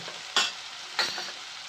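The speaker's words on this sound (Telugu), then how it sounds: "వీటిని బాగా కలుపుకోండి, మిక్స్ చేసుకోండి బాగా." Cooked cluster bean curry is stirred in a pan, with two distinct scraping stir strokes over a soft, steady sizzle close by.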